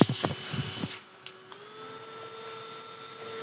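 A rechargeable electric fan runs with a steady faint motor whine and hum, after a few brief knocks and clatters at the start.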